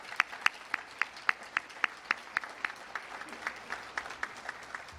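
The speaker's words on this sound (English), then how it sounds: "How about a big hand of applause for all of you?" Clapping at an electric cooperative's annual meeting, sparse and rhythmic, with steady distinct claps close by over a faint room murmur rather than a full crowd ovation.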